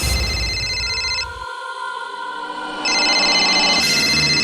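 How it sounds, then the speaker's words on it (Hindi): A telephone rings in a tense police-station scene of a crime drama, with repeated electronic ringing bursts that pause and then resume loudly. "तेरे जिगरी दोस्त करण का ही फोन होगा, उठा ले"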